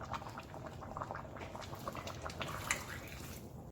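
Beef and lentil soup with vegetables simmering in a pot, giving a steady, soft bubbling and gentle liquid patter throughout, fairly quiet and without talk.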